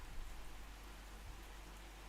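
Heavy rain pouring down outside an open window, a steady, dense hiss of falling water with no voices.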